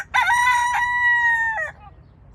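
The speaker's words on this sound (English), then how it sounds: "Let's start with the most severe one, the roosters, number one." A single rooster on Gozo crows loud and close, one long rising-and-falling cock-a-doodle-doo call lasting over a second, with no talk.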